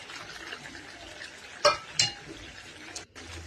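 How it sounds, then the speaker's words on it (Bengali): A spoon stirs coconut milk through prawn malai curry in a pan, a soft continuous liquid swirl with two sharp clinks of metal against the pot partway through, close and without talk. "নারকেলের দুধটা দিয়ে একটু মিশিয়ে"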